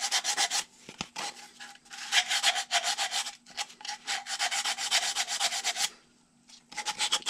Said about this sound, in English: Then I'm going to take another piece of sandpaper, a smaller piece, and kind of go around the inside edge a little bit.